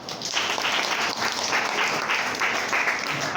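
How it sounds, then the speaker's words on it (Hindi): Group applause during a Sahaja Yoga meditation class at a school, steady dense clapping from many hands lasting a few seconds. "तालियां बजाइए"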